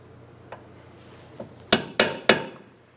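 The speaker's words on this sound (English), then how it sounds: "Using a punch, we're going to remove the extra cotter pin out of our ball joint stud." A metal punch is struck against a cotter pin in the ball joint stud of a 2007-2011 Toyota Camry steering knuckle. Two light taps come first, then three sharp, loud metallic hammer blows in quick succession, each ringing briefly.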